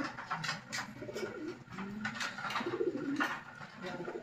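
Soft, repeated racing pigeon coos, low and throaty, rolling in a loose rhythm against a faint background hiss.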